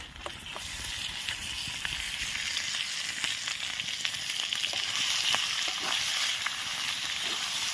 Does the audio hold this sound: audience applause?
no